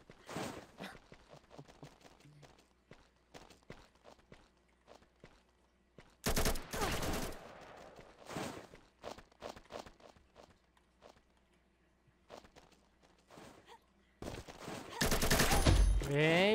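Gunfire in the shooter game Combat Master: sparse single shots and footsteps at first, then loud rapid bursts of automatic fire that stop and start, ending in a heavy sustained volley.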